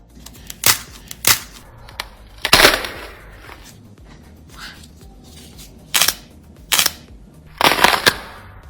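Lumps of clay crack and smash with sharp, loud pops, about ten irregular bursts spread over several seconds, close and without talking.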